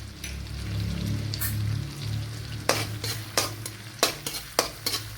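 Garlic cloves, ginger pieces and cut dried red chillies frying in butter in a pan, a steady sizzle with a low hum underneath and sharp scraping stirs of a utensil coming in short bursts toward the end.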